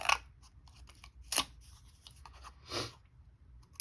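Scissors snip through a paper faux postage stamp in a few crisp cuts, close up and quiet, with faint rustling of paper between the snips.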